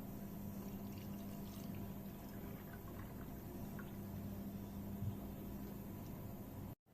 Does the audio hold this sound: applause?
no